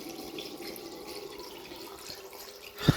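Water gurgles and trickles steadily in a clogged sink, a soft continuous wash ending in a brief louder splash or knock.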